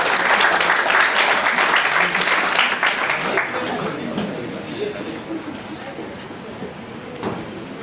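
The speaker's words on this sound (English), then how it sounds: "we'll give a round of applause for our speakers" A room full of seminar attendees claps loudly for the speakers, the applause gradually thinning and fading over several seconds with some murmuring underneath.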